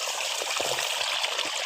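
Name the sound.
irrigation water trickling out through field bund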